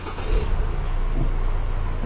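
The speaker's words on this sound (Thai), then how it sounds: "กดปุ่มสตาร์ทข้างข้างข้างนี้เนาะ" Ford Ranger Wildtrak pickup engine running after a push-button start, a steady low rumble close by with no clear cranking burst, alone without talk.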